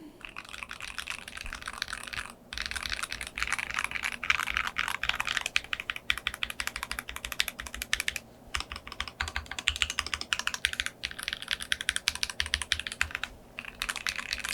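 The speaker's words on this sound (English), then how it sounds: "With these awesome GMK keycaps. And this is what they sound like." Close, brisk typing on an ROG Azoth mechanical keyboard with Azure Dragon V2 switches and GMK keycaps, a dense stream of crisp keystrokes that pauses briefly a few times, with no voices.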